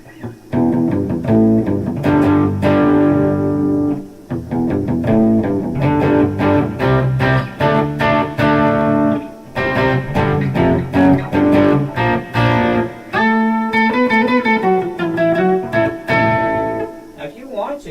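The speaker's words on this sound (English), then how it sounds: "let's try Distortion, and we'll leave the reverb alone, and Octave" Distorted electric guitar, a Gibson SG through a Boss Katana 100-watt amp, playing thick, buzzing chords and lines with a doubled octave tone, loud and continuous with brief breaks.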